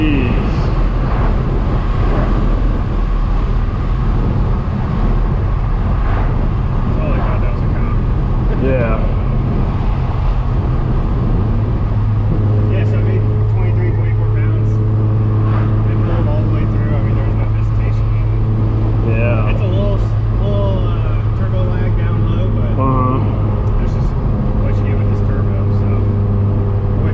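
A turbocharged Mazda RX-7 engine drones steadily while driving, with a low hum that rises in pitch partway through, and a voice speaks intermittently over it.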